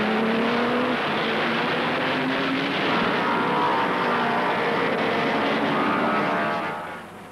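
Roaring 1930s German Grand Prix racing cars thunder past loud and close, a dense sustained engine howl with pitch climbing as the revs build, then fading slightly at the end.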